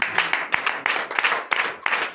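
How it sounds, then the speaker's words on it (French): A church congregation at a night deliverance service in Comè, Benin, claps in acclamation, with sharp, roughly rhythmic hand claps close by in quick bursts. "Donnez l'acclamation au Seigneur."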